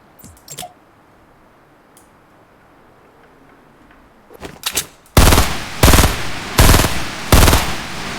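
Burst assault rifle in the Fortnite video game firing four loud three-round bursts at steady intervals, preceded by quieter clicks and handling noises in a near-silent stretch.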